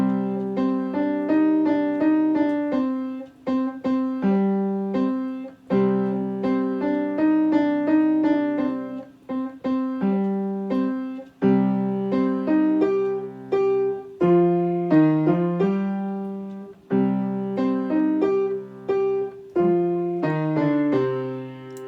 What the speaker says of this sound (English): I'll play one line of Zoom Gally Gally so you can hear it here.